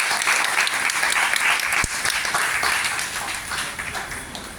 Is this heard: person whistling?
no